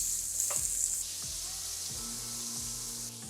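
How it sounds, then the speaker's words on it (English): Shrimp sizzle loudly and steadily in a hot pan while cooking shrimp and grits, a constant crackling hiss with a few soft clinks and scrapes beneath it. "Check the sizzle. Oh yeah, we got a sizzle. All right, add your shrimp."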